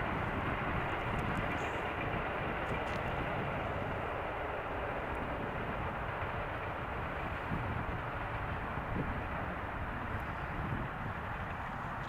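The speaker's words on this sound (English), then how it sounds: "Wait for the train, too much noise." A train passing outdoors in winter gives a steady, broad rumbling roar that holds at an even level throughout, with no other distinct sounds standing out.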